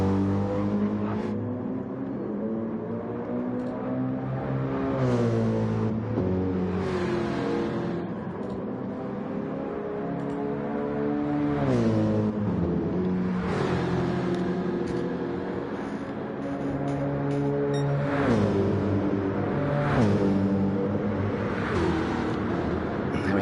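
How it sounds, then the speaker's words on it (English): Race cars in a racing video game lap a track around São Paulo during a four-hour endurance event, with engines repeatedly rising in pitch and sweeping past, loud and continuous, with gear-change dips. "Slipstream will be the first across the line, setting the benchmark for everybody else, with Jefferson right on his tail"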